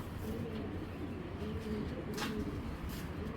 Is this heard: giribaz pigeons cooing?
yes